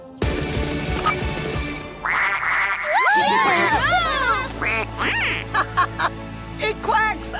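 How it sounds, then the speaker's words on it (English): A cartoon toy duck plane quacks repeatedly after its yellow button is pushed, a string of bright, wobbling quack calls over music, with children's voices chattering and giggling. "It quacks! I love it!"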